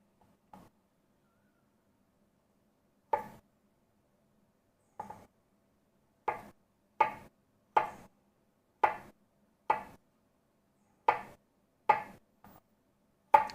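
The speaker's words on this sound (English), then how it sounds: "Mince about a teaspoon of garlic here." A knife mincing garlic on a cutting board in a home kitchen: a dozen or so sharp, separate chops at an uneven pace, close and clear against near silence.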